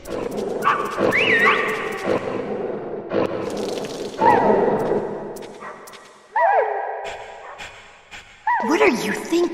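A dog barks and whimpers in a Metal Gear Solid cutscene, with yelping, pitch-sliding cries recurring in bursts over music and other game sounds, and a voice speaking between them.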